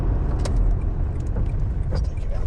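Small, low-powered car with an eBay performance pod filter pulling away, a steady engine and road rumble heard from inside the cabin, with faint clicks and rattles.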